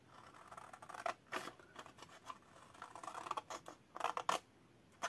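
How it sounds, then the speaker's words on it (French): Scissors snip along a short line in scrapbooking paper while folding a triangle gift box, giving a few quiet, separate crisp cuts with light paper handling between them. "on va couper cette petite ligne-là"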